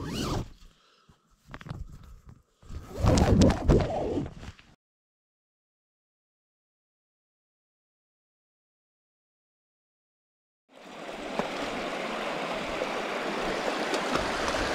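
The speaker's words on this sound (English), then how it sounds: "This is the East Verde River." Steady broadband rush of the East Verde River in Arizona, a snowmelt-swollen flow, rising after a stretch of silence and continuing loud and close to the end, preceded by brief scuffing and handling noises.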